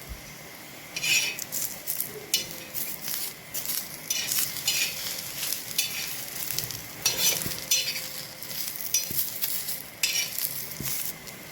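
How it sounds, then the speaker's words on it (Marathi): Garlic cloves and two finely chopped tomatoes for chole masala fry in a pan while a spoon stirs them, with a continuous sizzle broken by repeated scraping and clinking of metal against the pan. "अशा प्रकारे भाजून घ्यायचं, जास्त काळा करायचं नाहीये, हलकासा ब्राऊन भाजून घ्यायचं आहे आपल्याला"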